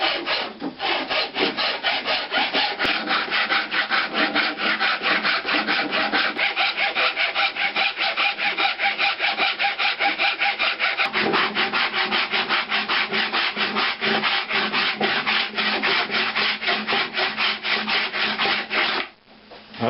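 Steady, rapid strokes of hand-flattening a blade while building a Rickenbacker bass, a continuous scraping rasp with an even back-and-forth rhythm, loud and close, stopping just before the end.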